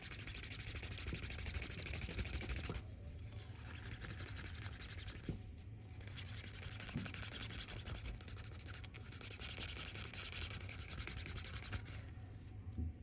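A leather wallet edge is burnished and polished by hand, giving a steady, close rubbing and scraping with short pauses between strokes and no talk.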